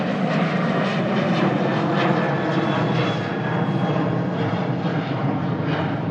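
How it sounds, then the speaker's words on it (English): A Ryanair jet departing runway 23 right at Manchester Airport, a steady, loud, broadband engine roar that holds throughout without a break, with no talk over it. "First departure of 23 right. Just so happens to be a Ryanair."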